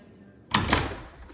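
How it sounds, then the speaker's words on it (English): A door thuds shut nearby in a home, one solid closing knock followed by a brief second bump and fading room noise, with no voices over it. "let me close the door."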